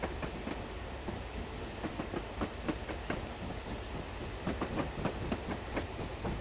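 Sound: Black 5 steam locomotive passing, Train Simulator video game

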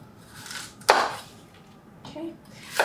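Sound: knife slicing small apples in half

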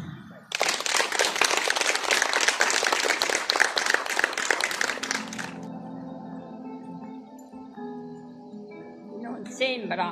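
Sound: audience applause

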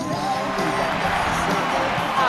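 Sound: crowd screaming and cheering at a square dance event

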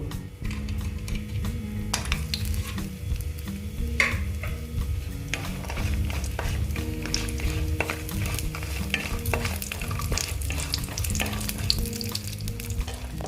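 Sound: frying bori (lentil dumplings) in a pan

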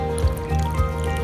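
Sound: water poured into a self-heating Sichuan hotpot

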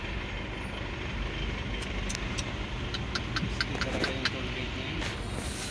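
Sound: traffic on a skyway in the rain

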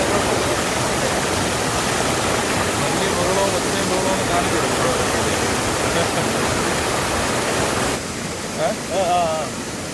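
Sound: waterfall

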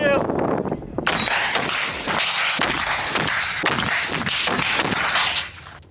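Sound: gunfire during shooting training

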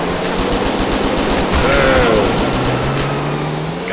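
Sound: gunfire in the video game GTA 4 army mod

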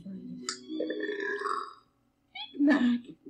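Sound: cartoon character burping

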